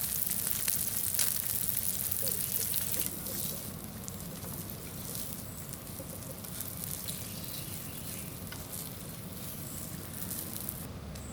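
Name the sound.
breakfast cooking outdoors on a CampMaid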